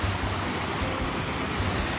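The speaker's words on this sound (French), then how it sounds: "c'est genre une mini cascade et là on est sur un pont du coup." A small waterfall heard from a bridge above it, a steady, close broadband rush of falling water that stays even and loud for the whole stretch.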